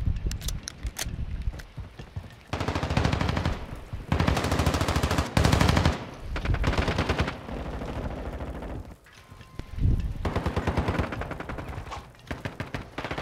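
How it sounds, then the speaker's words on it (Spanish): Gunfire in the video game Modern Warfare 2, dense rapid bursts of loud automatic shots with short gaps and a few single heavier blasts, close and continuous across the clip, no speech. "Ya empieza el tonto con la escopeta."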